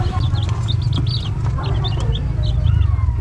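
Young Rhode Island Red chicks in a brooder give off a steady stream of high, repeated peeping chirps over a constant low hum, close by and with no voices.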